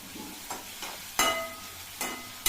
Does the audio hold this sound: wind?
no